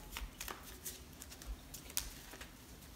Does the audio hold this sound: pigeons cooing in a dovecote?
no